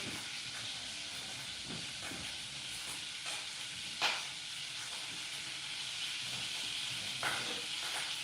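Fresh peeled hash browns sizzle in a pan as a steady, hissing fry, close and even, with a few faint clinks and one sharp tap partway through.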